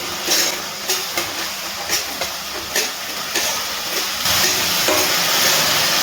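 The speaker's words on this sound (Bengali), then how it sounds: "গ্যাসের ফ্লেমটা হাইতে রেখে খুব ভালো করে মশলাটা কষিয়ে নিচ্ছি কিছুক্ষণের জন্য।" Chicken keema masala fries without water over a high gas flame, a constant bright sizzle broken by regular stirring scrapes that grow louder toward the end.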